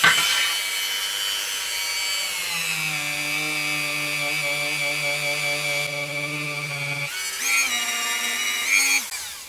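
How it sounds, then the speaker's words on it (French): A Dremel rotary tool grinds and polishes a shashka blade, a steady high whine that drops in pitch under load midway, then revs back up near the end, loud and close with no voices. "la Dremel, et là, je vais plus pouvoir parler parce que ça va faire trop de bruit"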